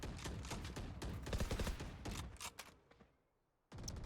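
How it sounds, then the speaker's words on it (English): Rapid bursts of game gunfire crackle in a dense, busy stream, then thin out into a brief near-silence before the shooting resumes. "Some light gunfire on either side"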